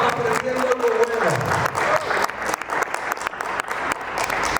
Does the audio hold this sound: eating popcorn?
no